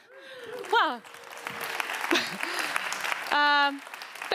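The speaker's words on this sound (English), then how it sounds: "This is the first time I get an applause arriving on stage." Audience applause greets a speaker arriving on stage at a talk on tipping points, steady clapping running under intermittent voices and brief tonal sounds.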